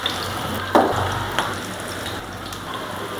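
Prawn and fish roe lentil fritters sizzle steadily in hot oil, with a constant close crackle and a few sharper pops and spatters.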